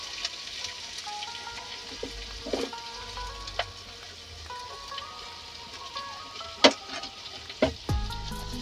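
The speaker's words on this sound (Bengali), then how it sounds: "এবার একটু লাল করে ভেজে নেব।" Chopped onion, garlic and green chilli fry in a pan with a steady, moderate sizzle, punctuated by a few sharp clinks of a utensil near the end; no one speaks.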